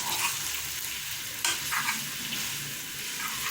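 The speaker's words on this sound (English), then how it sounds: "Please mix it in a round shape so that it neatly comes." Spaghetti being tossed and mixed with mushroom sauce in a frying pan, a steady close sizzle with soft scraping and one brief clink partway through, no voices.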